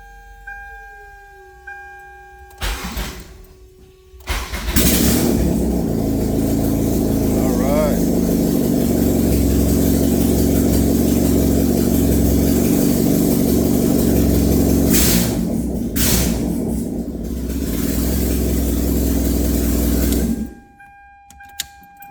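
A naturally aspirated Toyota MR2 Spyder engine cranks and fires for its first start, catching into a loud steady idle that holds for about fifteen seconds with a brief dip before shutting off; quiet mechanical clicks come before and after.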